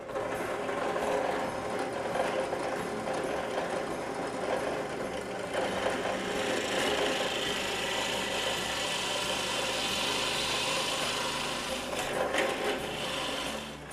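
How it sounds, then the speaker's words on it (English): A 3/4 inch Forstner bit drills into wood for a pipe, giving a continuous close grinding, scraping whir with a steady motor drone underneath and some rougher bursts of cutting noise. "I'll start with this pilot line using the 3/4 inch Forstner bit."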